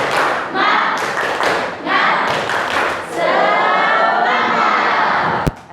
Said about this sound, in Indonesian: Kita mulai. Tepuk semangat.